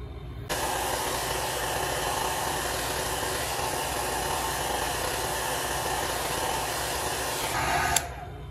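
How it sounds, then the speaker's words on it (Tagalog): A continuous loud whooshing hiss of a heat blower running close by, heating a Vivo V17 Pro phone's back cover to soften adhesive, switching on abruptly and cutting off near the end. "gagamit po tayo ng heat blower para mapalambot natin itong nakadikit dito sa gilid niya"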